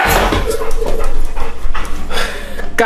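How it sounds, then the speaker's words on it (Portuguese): A dog pants in quick, close, breathy bursts with brief whimpers mixed in, loud and near, with a little human voice underneath. "Só um cachorro."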